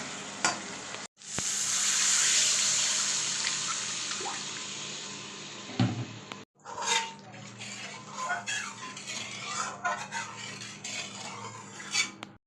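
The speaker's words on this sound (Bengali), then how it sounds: "মশলাটা কষে গেলে আমি এর মধ্যে জল দিয়ে দেবো।" Water poured into a pan of spiced Kalbaush fish curry after the masala is fried down, giving a loud, sustained hissing sizzle that fades over several seconds, followed by softer stirring and scraping sounds.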